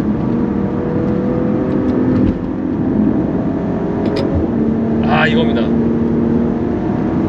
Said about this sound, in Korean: 그리고 제동, 다시 한번 가속.